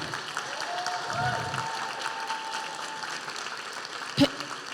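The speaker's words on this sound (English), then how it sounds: "can we applaud them?" Audience applause for parents at a graduation ceremony, a soft steady patter of clapping under a faint hum, with a brief sharp knock near the end.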